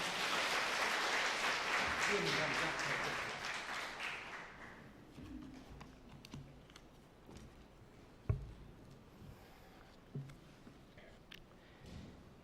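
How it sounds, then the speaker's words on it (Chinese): A church congregation claps in welcome for a visiting missionary during a Sunday worship service, dense applause filling the first five seconds before thinning into scattered claps and a few sharp isolated hits. "我们用拍手热烈掌声欢迎他来"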